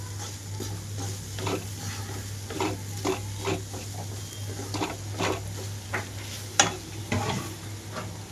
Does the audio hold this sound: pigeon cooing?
no